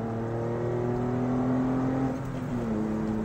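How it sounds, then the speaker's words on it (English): A Porsche 911 with Bilstein B8 shocks and H&R lowering springs revs during a downshift, a steady droning engine tone that climbs and shifts pitch, heard from inside the car with no voices. "let's get a good downshift."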